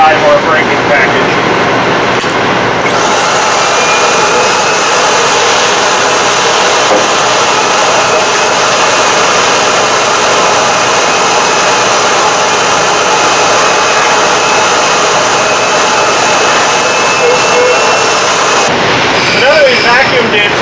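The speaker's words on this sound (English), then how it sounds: "this is an ESD safe vacuum cleaner" An ESD-safe vacuum cleaner runs steadily inside the cabinet of a variable frequency drive, giving a loud, continuous motor roar and airflow hiss that barely changes for the whole stretch.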